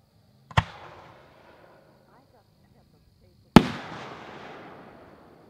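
Two sharp firework reports from a Vulcan 3-inch Pixie Dust to Willow shell crack out about three seconds apart, the second louder. Each is followed by a fading, crackling tail in otherwise quiet open air.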